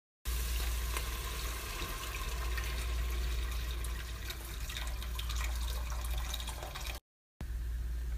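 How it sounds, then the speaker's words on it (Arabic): Water pours steadily into a cooking pot of minestrone soup, three glasses' worth, with a continuous rushing, splashing wash that runs loud for about seven seconds, breaks briefly, then resumes. "وحنحط دحين 3 كاسات موية"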